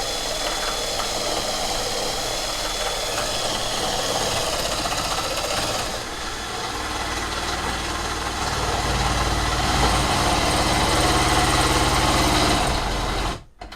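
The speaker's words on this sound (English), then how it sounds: "we can just take a drill with a socket on it and put that drill on there, and that's what we're gonna use to raise and lower this" Power drill fitted with a socket driving a winch to raise a DIY rooftop tent on a 2x4 base, a continuous loud whirring drone with a rattling mechanical undertone that shifts partway and stops abruptly at the end.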